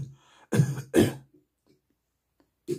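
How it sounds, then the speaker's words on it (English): Two close, short coughs from an adult during a mock ER doctor exam, followed by near silence and a faint breath. "Okay, I need you to cough."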